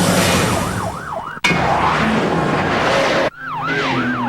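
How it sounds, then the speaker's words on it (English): Wailing police sirens rise and fall loudly, cutting in and out between shots, with heavy traffic noise and engine roar underneath. "The shriek of sirens on the quiet night warns the countryside a high-speed pursuit is in progress."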